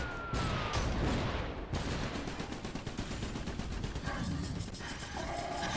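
Artillery and gunfire in the war game Iron Brigade, dense continuous booming and rapid automatic shots close and loud, with bursts layered over each other and a brief mechanical whine.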